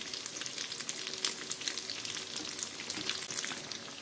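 Pork and tofu fry in a covered pan for tokwa't baboy, giving a steady, dense sizzle with scattered pops and crackles that keeps going the whole time, fairly close and with no talking.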